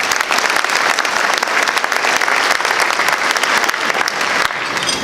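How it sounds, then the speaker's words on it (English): Steady, loud audience applause fills a room at a chamber of commerce annual luncheon, many hands clapping continuously throughout with a slight dip near the end. "So let's give them a round of applause as well."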